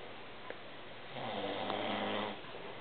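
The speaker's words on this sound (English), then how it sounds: "Big snore." A dog snores softly and nearby in a quiet room, a single drawn-out rasping breath standing out against steady low background hum.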